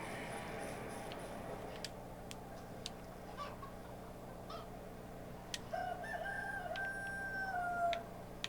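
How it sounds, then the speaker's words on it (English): Chickens in the medieval farming game Medieval Dynasty, with a rooster crowing and faint clucks over a quiet outdoor ambience, plus scattered light clicks and a short rising tone near the end. "gotta go give this animal feed to the chickens"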